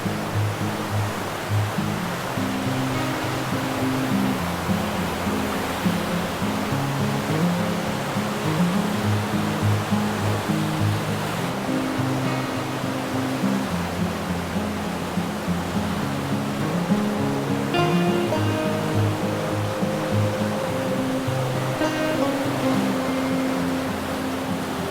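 Upper Tumwater Falls on the Deschutes River in Tumwater, Washington, a steady, loud roar of rushing, falling water filling the whole stretch without pause.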